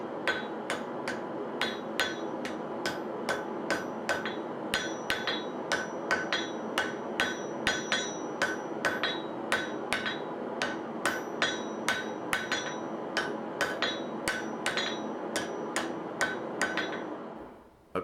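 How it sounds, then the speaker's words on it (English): Steady, evenly spaced hammer blows ring out on hot steel at the anvil while a Japanese kitchen knife is forged, each strike a sharp, bright metallic clang repeating about twice a second, loud and close. "One of the things about forging is that you just want to let the hammer do the work."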